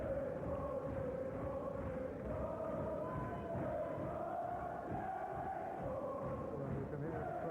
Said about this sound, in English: you can hear the crowd solemnly behind Hugh Forde